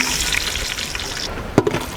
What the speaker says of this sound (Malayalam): നമുക്കിന് അണ്ടിപ്പരിപ്പ് ആദ്യം ഒന്ന് ചൂടാട്ടെ, എന്നിട്ട് നമുക്ക് മുന്തിരി വറുത്തെടുക്കാം.